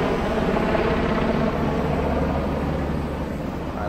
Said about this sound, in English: there goes the helicopter overhead